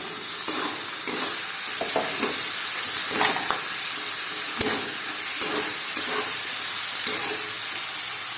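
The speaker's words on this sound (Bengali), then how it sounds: "নুন দিয়ে নাড়ব এবার সব সবজিগুলোকে একটু নুন দিয়ে ভালো করে নাড়ছি আমি" Mixed vegetables with salt stirred and fried in a pan for dry chilli chicken, a steady bright sizzle broken by repeated scraping and clattering stirs, close and without speech.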